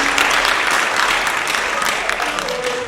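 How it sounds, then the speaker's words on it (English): An audience claps for football players at a 7-on-7 gridiron event, a dense, steady burst of applause filling the room at close range that fades slightly toward the end. "can you guys give these guys a big round of applause real quick?"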